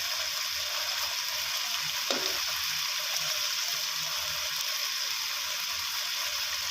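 Egg stir-frying in a pan makes a soft, even sizzle from start to finish, with one brief clink of a utensil partway through and no voices.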